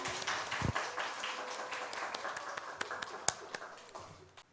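Members of a church congregation clap to welcome the pastor to the pulpit during a women's mission devotional service, scattered, fairly sparse handclaps that gradually thin out, with some soft sounds of the room in the background.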